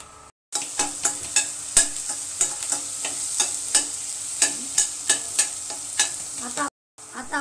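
Green chillies sautéing in a hot pan for dahi kadhi, with a steady sizzle and a string of repeated spoon-stirring scrapes. The sound stops briefly at the start and end.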